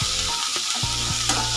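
Onions, Byadagi chillies, ginger and garlic fry in a pan for sambar, giving a steady loud sizzle with a few stirring scrapes and no talk.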